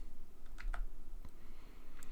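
A few scattered computer keyboard keystrokes, soft isolated clicks spaced irregularly over a quiet low hum, faint and close with no talking.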